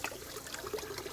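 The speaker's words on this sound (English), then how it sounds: "So the saponins here are going to be rinsed off with just a little bit of some water." Quinoa is rinsed by hand under a little running water, giving a continuous close trickle and splash with faint grain swishing and no talk.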